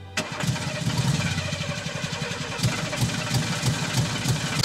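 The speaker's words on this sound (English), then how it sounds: "Start the engine, son." A car engine cranks and fires up in the Friday the 13th video game, a brief starter whir followed by a close, loud, steadily pulsing idle that chugs on for several seconds.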